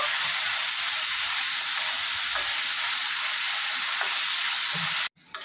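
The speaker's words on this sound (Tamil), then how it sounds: "வெங்காயம் கொஞ்சம் வதங்கி வரட்டுங்க." Onions sautéing in a pan for a fish curry, a steady, loud broadband sizzle that runs without a break, with faint stirring clinks, then cuts off abruptly near the end.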